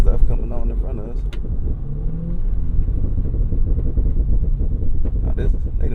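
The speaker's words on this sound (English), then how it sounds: "Why they got a car this big making all this noise" A 2024 Cadillac Escalade-V large SUV rumbles while driving, its deep engine and exhaust drone running steadily under someone talking inside the cabin.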